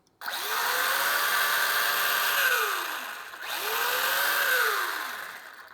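Electric motor of an MJX Hyper Go 16207 1/16 RC buggy spinning its wheels at 70% throttle, a steady high whine that rises, dips briefly mid-way and spins up again, close and loud with no talking.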